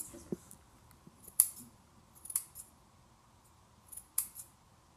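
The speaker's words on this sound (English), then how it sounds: "Don't you move with your big scissors." Quick, crisp scissor snips cutting hair close by, a few sharp cuts spaced unevenly across a quiet background.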